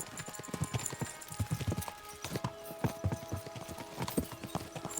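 Horses' hooves clip-clop in the video game Kingdom Come Deliverance 2, a steady rapid rhythm of hoof strikes, loud and close, with faint rattling alongside.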